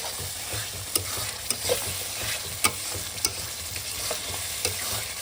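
Tomatoes frying on a spice masala for a Bengali kosha mangsho meat curry, a steady close sizzle with repeated scraping stirs and occasional spatula knocks against the pan.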